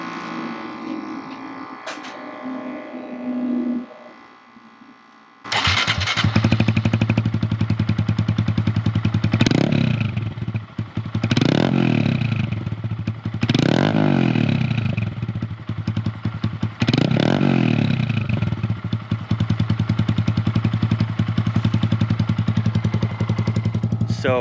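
After a quiet start, a 2022 Honda Grom motorcycle engine with a Kemimoto aftermarket exhaust roars to life and revs hard in about five loud, rising bursts over a throaty idle.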